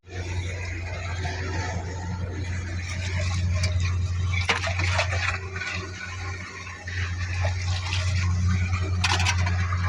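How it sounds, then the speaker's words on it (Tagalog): Water gushing steadily from a broken main water line in a flooded dug-up spot, a continuous broad rush with a low hum running underneath, loud and close, with brief splashy bursts along the way. "Baha ang tubig."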